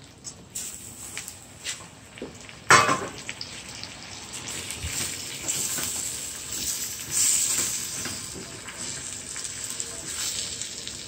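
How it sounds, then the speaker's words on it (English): Shrimp go into a pot of cooking ackee, giving a sudden splashy hit followed by a steady sizzling hiss that carries on at moderate level, with no voices. "So now we're gonna put the shrimp in."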